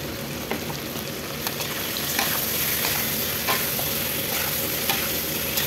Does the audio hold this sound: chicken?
yes